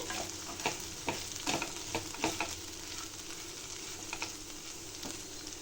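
Okra (ladies finger) roasting in a pan, a soft continuous sizzle broken by sharp spoon scrapes and taps that cluster early and recur now and then.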